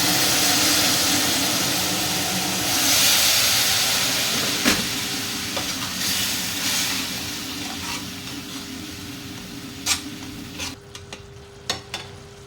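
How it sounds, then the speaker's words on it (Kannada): Hot water is poured into a frying egg curry masala, raising a loud, sustained steamy sizzle that slowly eases, with a few sharp clinks of a spoon near the end. "ಇವಾಗ ಇದಕ್ಕೆ ಬಿಸಿ ನೀರನ್ನು ಹಾಕ್ಕೊಳ್ತಾ ಇದ್ದೀನಿ"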